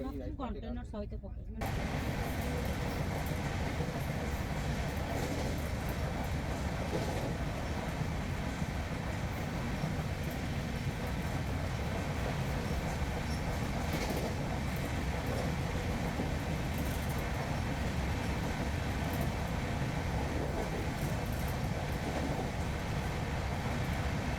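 Tejas Rajdhani Express in motion, heard from inside a 2A coach, with a steady loud rumbling rail roar and faint rhythmic clatter after a brief quieter opening; a voice talks over it in the background.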